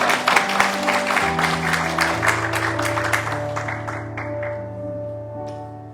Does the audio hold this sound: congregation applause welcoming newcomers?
yes